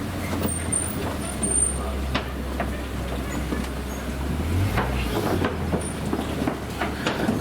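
A Kilimanjaro Safaris open-sided vehicle at Disney's Animal Kingdom in Florida rolls slowly across a bridge, its low steady engine rumble and creaking, rattling chassis filling the scene at close range, with a brief deeper thump midway and faint voices.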